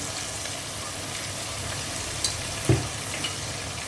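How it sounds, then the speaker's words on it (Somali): Steady loud sizzling of beef with ginger and garlic frying in a pan, with a few soft clinks of a utensil stirring. "intaas si fiican isku shiilayaa"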